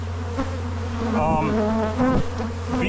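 Bees buzz around a beehive in a close, steady drone that swells and dips as individual insects fly past.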